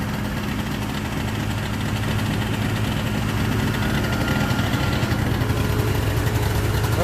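A two-stroke car engine idles steadily just after being fired up on a cold day, a dense, even low rumble with vibration, loud and close, with no one speaking over it.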